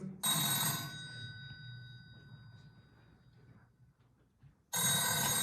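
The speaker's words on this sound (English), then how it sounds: "And then the phone rang." A telephone bell rings in two loud bursts, one at the start and one at the end, with a fading ring and quiet room tone between them.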